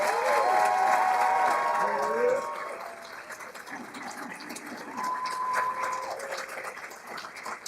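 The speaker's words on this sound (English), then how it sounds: "would you join me in a round of applause for our PACS instructors and staff" A seated audience at a military communications school ceremony applauds its instructors and staff. The clapping is steady and moderately loud, with voices talking and calling over it, and it eases off and then swells again.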